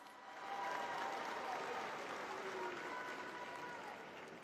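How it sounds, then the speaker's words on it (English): Faint, distant applause rises from a large crowd at a McGavock High School 2024 graduation ceremony, a soft continuous wash of clapping that swells in and holds steady without talk over it. "Give yourselves a round of applause."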